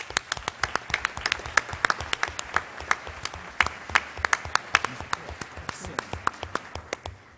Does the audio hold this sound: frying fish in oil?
no